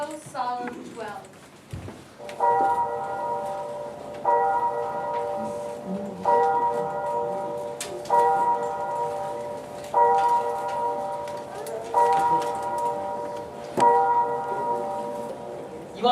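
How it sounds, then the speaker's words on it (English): A church bell tolls midnight with twelve slow, solemn strokes, evenly spaced about two seconds apart, each ringing tone lingering and overlapping the next, preceded by a brief clatter. "The bell tolled a slow, solemn 12."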